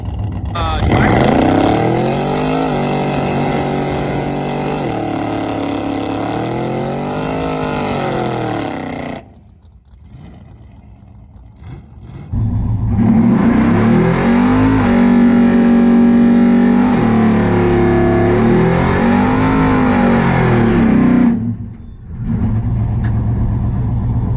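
A drag racing car's engine roars through a long burnout, shifting up into third gear, with two loud sustained stretches separated by a brief lull, close and very loud.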